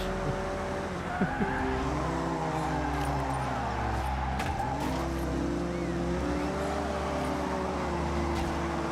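Racing car engines in Forza Horizon 6 whine and buzz continuously like a swarm of insects, pitches rising and falling as they rev, with brief tire squeals mixed in.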